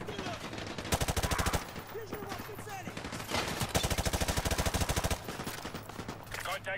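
Gunfire in the Modern Warfare 2 campaign: long, rapid, evenly spaced shots in several bursts, loud and close, with battle chatter and voices mixed underneath.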